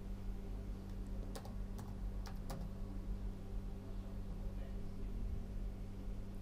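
Computer keyboard being typed on, a few sharp key clicks close together, then quiet, set over a steady low hum.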